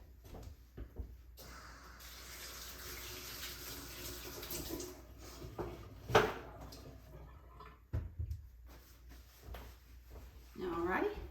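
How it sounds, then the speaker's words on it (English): Tap water runs into a kitchen sink while hands are rinsed during fish taco prep, a steady close splash for several seconds that thins out, followed by a few clinks and handling knocks. "Let me rinse my hands off just a second."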